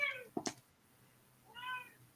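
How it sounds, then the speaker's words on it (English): Angry cats meowing in two drawn-out, wavering calls separated by a sharp thump, fairly close and alone. "some angry cats you got there"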